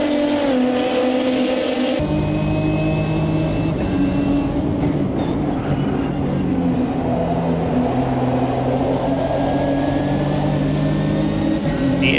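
Race car driving in the Automobilista 2 sim racing game at Goiânia, with a steady, loud engine drone and shifting pitch throughout as the car runs with no downforce left.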